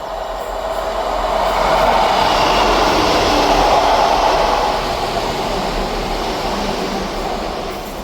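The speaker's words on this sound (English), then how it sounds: "Passing through now is also the 1653 ScotRail service from Edinburgh Waverley to Perth" A ScotRail passenger train, the Edinburgh Waverley to Perth service, passes through Dalmeny station as a loud, close rushing roar of wheels and carriages that swells and then fades slightly over several seconds.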